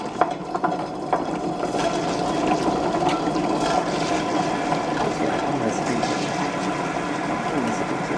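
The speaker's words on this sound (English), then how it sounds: "pour little bit water and then start the machine. And when the stones are rotating" A wet grinder's stones rotate in water with soaked rice for appam batter, giving a steady, dense churning and sloshing hum that runs continuously and fairly loud throughout.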